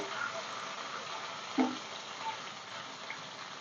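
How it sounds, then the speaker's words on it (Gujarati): Ginger and chili paste sautéing in hot oil after cumin, producing a faint, steady sizzle with a single soft clink of a spoon. "જે આદુ અને મરચાંની પેસ્ટ લીધી છે તે પેસ્ટને આપણે થોડીક તેલમાં સાંતળી લઈશું"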